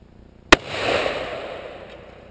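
A single sharp gunshot cracks close by, then a rolling echo fades over the next two seconds.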